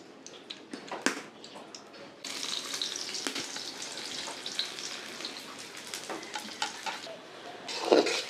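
Oil heating and sizzling in a wok for a broiler chicken bhuna, a steady crackling hiss that rises in intensity partway through, with scattered pops and clinks of utensils close by.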